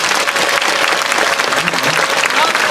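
Loud, thick applause from a concert audience at an outdoor venue, a dense rapid patter of many hands clapping steadily for a few seconds with a few voices mixed in.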